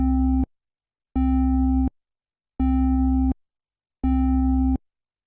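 A low, steady synth tone with an added sine wave filling the low end plays in four evenly spaced sustained notes, each about half a second to a second long, separated by silence.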